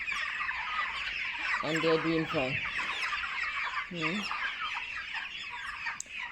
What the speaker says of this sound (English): So these are the chicks.